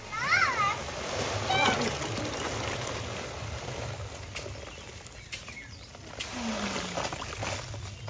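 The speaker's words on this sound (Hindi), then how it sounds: "यहाँ पर मिट्टी भिगोने जा रही हैं, जो छुही होती है ना सफ़ेद वाली, उसी को भिगोएंगी" White clay for plastering a kitchen is soaked in water, giving intermittent splashes and sloshes near by, while voices, including a child's, are heard in the background.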